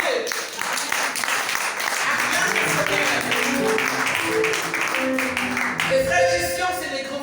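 A church congregation applauds and cheers in acclaim of God, a continuous wash of clapping mixed with voices that swells toward the end.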